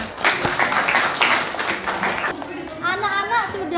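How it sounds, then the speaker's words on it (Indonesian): Children clap together in an art classroom after finishing their design projects, a dense burst of many small hands lasting a few seconds, then fading as a voice and light chatter take over near the end. "Tepuk tangan buat kalian semua."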